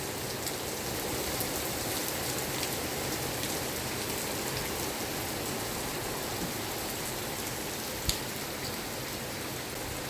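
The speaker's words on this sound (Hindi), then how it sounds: "बहुत सोहनी बरसात आन लग गई जोरदार।" Heavy monsoon rain pours down over farm fields in steady, dense, even hiss, with no break and one brief louder drop or tap.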